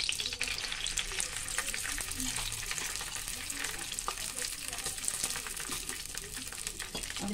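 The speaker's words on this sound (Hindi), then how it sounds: "जो मखाने जो है इस तरीके से घी में इसको फ्राई कर लेंगे।" Makhana (fox nuts) frying in hot ghee while being stirred, giving a steady, dense crackling sizzle with scraping stir strokes throughout, close and fairly loud, no talking.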